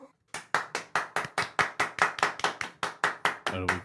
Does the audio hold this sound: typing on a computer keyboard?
no